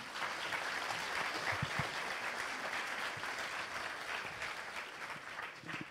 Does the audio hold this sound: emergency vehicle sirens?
no